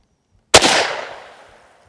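A single sharp gunshot from a Ruger American rifle fired at small targets on a range, loud and close, followed by a long, fading echo.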